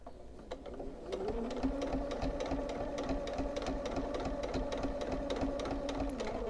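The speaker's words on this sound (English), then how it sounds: "You're going to continue to sew down." A sewing machine stitches binding onto a quilt with a minky backing, starting after a brief pause and then running in a fast, steady needle rhythm with a constant motor hum.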